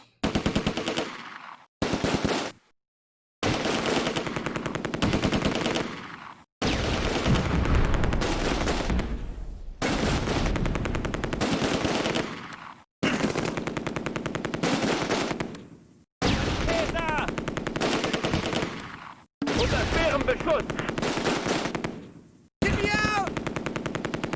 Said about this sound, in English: Our new machine gun team is being cowards. Now he's shooting.